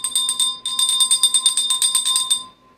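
A small hand bell rung in a quick run of bright, ringing strikes lasting a couple of seconds, close and clear with no talking, then fading out.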